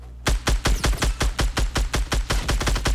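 Rapid automatic gunfire in Fortnite Battle Royale, a steady run of about fifteen evenly spaced, loud, punchy shots in quick succession with no talking.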